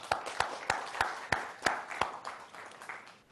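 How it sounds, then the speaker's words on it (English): A small audience at an annual dinner gives a scattered round of applause: about eight distinct, fairly faint claps in an uneven rhythm, with no one speaking. "Now let's give them a big round of applause."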